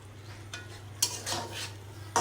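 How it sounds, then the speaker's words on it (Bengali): Shrimp being lightly fried in a pan, a faint low sizzle broken by a few scraping stirs of a utensil against the pan, with no talking. "চিংড়িগুলো আমি হালকা একটু ভেজে নামিয়ে নিব"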